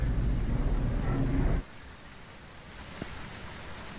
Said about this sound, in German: Oh, haben wir Gewitter?